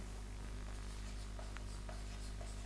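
Chalk or marker scratching across a board during a Class 12 maths lecture, a soft continuous rubbing stroke with a few brief squeaks, heard over a steady hum of room noise.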